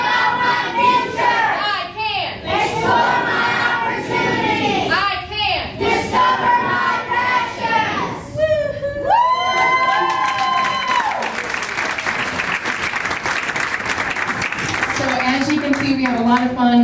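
At an evening board meeting, a group of children shouts a call-and-response chant in loud, rhythmic bursts, with an adult voice leading between lines, followed by applause and a crowd's cheering.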